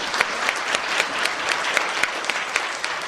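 Audience applause at a gathering in a hotel hall, steady crowd clapping with rhythmic accents throughout, moderately loud and continuous.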